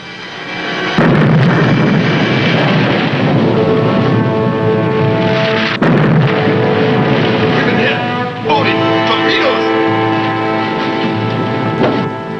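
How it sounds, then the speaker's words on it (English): Torpedo hits explode against the escort aircraft carrier Chuyo as deep, heavy blasts followed by long rumbling roars, loud and sustained, with a second impact partway through and voices faintly underneath. "Two hits, number 1 and 4 torpedoes."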